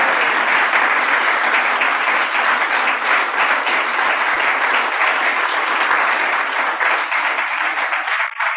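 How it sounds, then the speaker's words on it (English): An audience at a hospital organization's live event applauds steadily for the full stretch, a dense, even wash of many hands clapping that fades only slightly at the end. "let's clap for Michelle, please."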